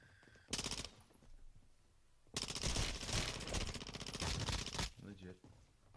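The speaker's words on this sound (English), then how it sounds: "Had an SMG and I was firing" In the Call of Duty Warzone video game, SMG fire comes as a short rapid burst followed by a longer sustained stream of automatic shots. The shooting sounds close and loud, and a player talks around it.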